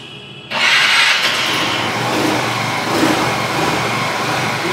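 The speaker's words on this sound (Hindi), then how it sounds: "स्कूटर को करते हैं अभी स्टार्ट।" A Vespa scooter engine cranks and catches after a short pause, then settles into a steady, smooth idle close by, with no talking.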